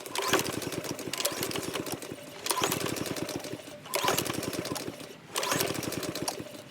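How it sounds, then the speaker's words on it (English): A small gasoline power-equipment engine runs low on fuel, chugging in a rapid mechanical rhythm in several bursts that sag and pick up again before faltering, loud and close with no speech. "After it died down, you're gonna want to start it up again and keep starting it until it doesn't start anymore."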